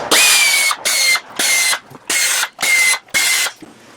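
A ratchet loosening ignition coil bolts on a Hyundai Santa Fe 3.5 engine: six close, loud bursts of rapid clicking, each about half a second long, separated by brief pauses.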